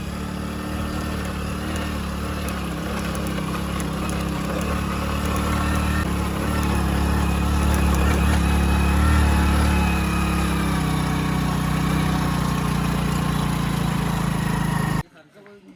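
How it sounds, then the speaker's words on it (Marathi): A small motorcycle engine drones steadily up close, rising slightly in pitch midway, then cuts off abruptly at the end. "मी आपला चाललोय बाईक घेऊन"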